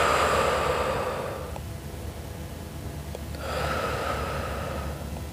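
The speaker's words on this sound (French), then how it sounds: "Inspire et expire." Slow, audible breathing during a stretching exercise: a long breath, a pause, then another breath, close and fairly soft.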